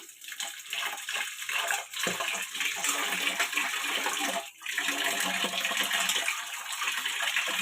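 Water splashes and pours into a vessel of lentils being washed, a steady, close gushing and rinsing noise with a couple of brief pauses and no talking.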